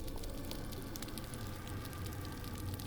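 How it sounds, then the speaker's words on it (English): Tiny plankton creatures crackling underwater form a steady, faint, dense field of tiny pops and clicks, evenly spread with no voices. "even the sounds of the tiny plankton creatures add up to a respectable crackling noise"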